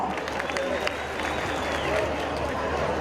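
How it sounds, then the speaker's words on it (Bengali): A crowd applauds a dance troupe at a police-organised monsoon-welcoming cultural programme in Dhaka, a dense, steady wash of clapping and crowd noise filling the whole stretch, with voices mixed in. "তার দলকে একটা করতালি হয়েছে তাদের জন্য"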